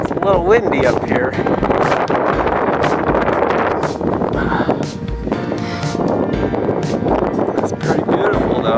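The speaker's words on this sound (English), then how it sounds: "As you can tell, it's a little windy up here." Strong wind roars across the summit of Mt Fuji, buffeting the microphone in loud, constant gusts with no letup.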